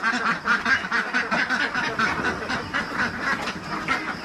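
Ducks on a duck farm quack steadily and overlap one another, loud and close, with no talk.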